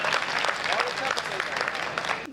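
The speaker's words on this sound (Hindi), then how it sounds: "एक बार तालियां आपकी हो जाए, पूरा गीत" An audience at a Hindi poetry recital about Lord Ram claps steadily, a dense patter of many hands, while a voice speaks over the applause.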